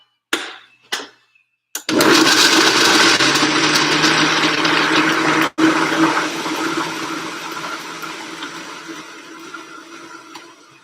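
A kitchen blender runs in a home cooking session, starting abruptly after a couple of brief clicks and then whirring loudly and steadily, with a short break in the middle and the motor tone slowly easing off toward the end.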